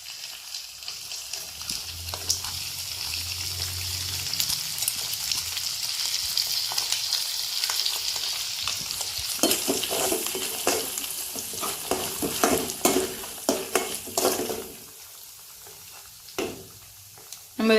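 Spices such as coriander and cumin sizzle and fry in a pan for bitter gourd thokku, with steady loud sizzling and stirring scrapes that stop abruptly near the end, leaving a quiet pause and a few last clatters.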